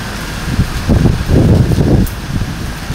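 Strong typhoon wind gusts roar and buffet against the microphone, swelling and fading over a steady whooshing background.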